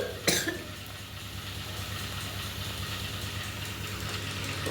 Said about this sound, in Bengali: কাশি হয়েছে একটুখানি।